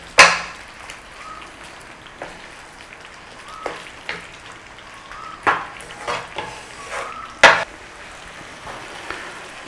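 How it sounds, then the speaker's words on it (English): Tomatoes get stirred into chicken jalfrezi in a pan, the spoon clacking and scraping in repeated close knocks over a soft, steady sizzle, with no voices. "In with our tomatoes, give them a stir in, give it a cooking for just a couple of minutes"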